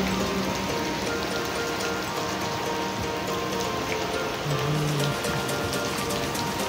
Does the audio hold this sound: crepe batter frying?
no